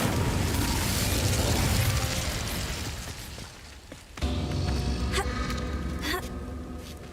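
An Incendio fire spell cast in Hogwarts Legacy, a loud roaring burst of flame that fades, then a sharp second blast with crackling, shattering debris.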